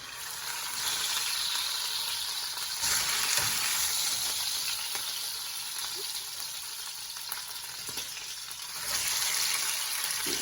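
Pot roast meat searing in a hot pan gives a loud, continuous sizzle that swells and eases as the meat shifts, with occasional clinks, no talking.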